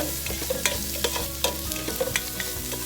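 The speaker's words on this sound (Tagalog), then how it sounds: "Para palabasin lang po natin yung kanyang mantika. Stir-stir lang po natin siya." Spam frying in its own rendered fat in a pan, a steady dense sizzle with regular scraping knocks of a spoon stirring it, close and continuous, no voices.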